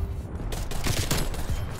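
Type 63 rifle fired in the video game Call of Duty Cold War, with a quick run of several sharp, close shots in rapid succession over a steady game-noise background.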